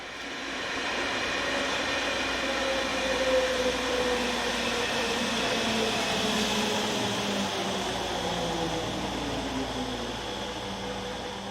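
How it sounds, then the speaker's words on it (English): Austrian S-Bahn Class 4020 electric units 4020-264 and 274, in old blue and cream livery, arriving from Gunzersdorf with a steady droning hum and faint tonal whine that swells and then eases. "Arriving from Gunzersdorf are units 4020-264 and 274, still sporting their old blue and cream S-Bahn livery."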